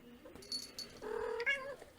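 A cat in the Runescape 3 video game gives a drawn-out, wavering meow, close and clear, preceded by a few faint clicks and brief short tones.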